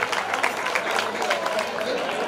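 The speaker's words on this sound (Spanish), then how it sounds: "En ese aplauso para la Banda Santa Catalina." A crowd applauds for a band at a traditional verdiales music gathering in Puerto de la Torre, dense clapping heard close and fairly loud, with some crowd voices mixed in.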